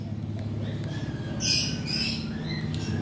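Cockatiels in a colony cage give short squawks and chirps, with one louder bright call in the middle, over a low steady background hum.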